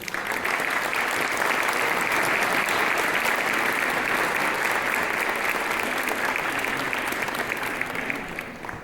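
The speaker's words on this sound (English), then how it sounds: "I think we should give her a round of applause" Audience at a cultural center event in Paris applauding the Ambassador of Greece, a full, dense, sustained round of clapping from a large crowd, steady throughout and easing slightly at the end.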